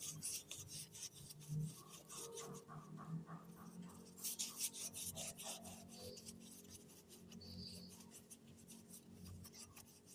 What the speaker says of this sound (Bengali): খাওয়ার সোডা দিয়ে একটা কমলা লেবুকে খুব ভালো করে ঘষে নিয়েছি